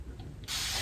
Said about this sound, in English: I have some water and aloe vera juice in my spray bottle, and I'm gonna spray that on the perimeter of